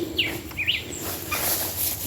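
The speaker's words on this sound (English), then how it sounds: "I'm gonna let you see that bird that is making that noise." A bird calls a few short, sharp chirps on a nature walk outdoors, two quick clear notes and then a fainter one over soft background ambience, with no talk.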